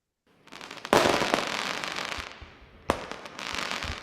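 AI-generated fireworks: a sharp loud burst followed by dense crackling and popping, then a second sudden bang and more scattered crackles, all without any speech.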